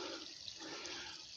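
Water from a pond spillway pours in about 40 yards away, a steady broad rushing wash that continues unbroken and evenly loud throughout.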